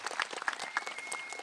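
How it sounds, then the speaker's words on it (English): Audience at a high school graduation clapping for community leaders, a brief, fairly faint burst of applause that stays even throughout. "If you would give them a round of applause"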